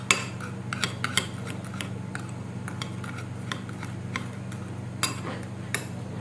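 Grated potato and baking soda mixed in a bowl, heard as light intermittent scraping and clinking of a utensil against the dish over a steady low hum.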